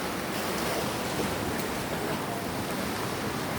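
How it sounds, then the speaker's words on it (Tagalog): Strong ocean waves at Masasa beach in Tingloy, Batangas, a dense, steady roar of surf and wash, loud and unbroken without distinct breaks, with no voices. "Ang lakas pala ng alon dito"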